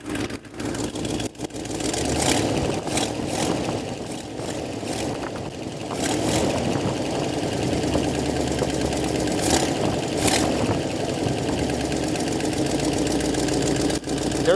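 A V8 Ford Mustang, revived after 22 years of sitting, idles rough with a steady, close, uneven engine drone throughout, and faint voices now and then underneath.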